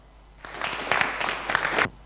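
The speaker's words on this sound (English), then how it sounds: "Round of applause, please," A short burst of audience clapping at a race event at Croft, starting abruptly and stopping after about a second and a half, moderately loud.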